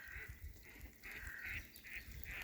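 Ducks quack in a series of short nasal calls, a few repeated in rhythm, at a moderate distance against an outdoor background at a goose nature reserve in Poland.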